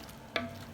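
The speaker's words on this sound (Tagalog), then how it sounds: "Halo-haloin yan." Beef papaitan is stirred in a pot right after water is added, a single quick scrape of a utensil against the pot over a soft, steady background sizzle.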